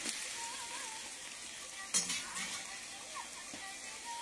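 Green chillies and onions fry in a wok for a Bengali chicken curry, a soft, steady sizzle and hiss with a sharp metallic clink partway through and a few light stirring scrapes.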